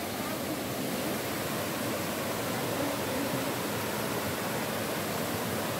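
River water rushes toward the Cafundó waterfall in Ubajara National Park, Ceará, a loud, unbroken broadband roar of flowing water with no voices heard.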